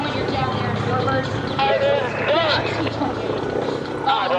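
A T-28 Trojan warbird makes a low pass at the EAA AirVenture airshow, its propeller engine droning steadily and loud throughout while an announcer talks over it.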